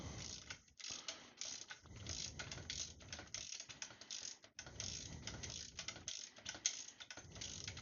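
Bolts and nuts on a linear actuator for a 6DOF motion platform being tightened, a rapid ratcheting clatter in quick bursts with short pauses, close and fairly quiet, with no talking.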